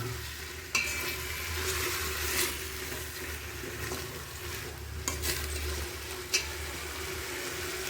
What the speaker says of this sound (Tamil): மல்லித்தலையும் சேர்க்குறோங்க நல்லா அப்படி கலரணுங்க